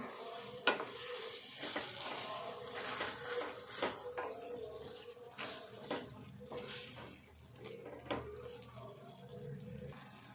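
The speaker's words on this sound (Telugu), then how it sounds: "ఇప్పుడు ఒకసారి కలుపుకుందాము." A spoon scrapes and stirs tomato egg curry in a pan, with soft repeated clanks and a low simmering sizzle underneath, fairly quiet and close.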